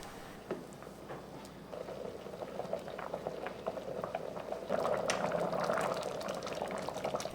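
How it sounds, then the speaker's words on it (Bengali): Broken-rice khichuri boiling in a rice cooker, quiet bubbling and popping that builds into a livelier, denser simmer toward the end, heard up close without speech. "রান্নায় বলক উঠলে একটু নেড়েচেড়ে দিতে হবে।"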